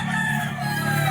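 A pure Elevator Kelso gamefowl rooster crowing at a game farm, one brief loud nearby crow with a harsh tonal quality, no talk.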